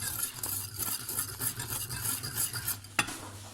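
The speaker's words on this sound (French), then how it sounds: "on va rajouter noix de muscade, sel, poivre dans le béchamel et on va mélanger" Béchamel sauce being stirred after adding nutmeg, salt and pepper for lasagne, a steady soft scraping and swishing of a utensil in the pan with a low hum underneath and one sharper knock near the end.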